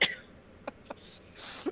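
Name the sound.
sneeze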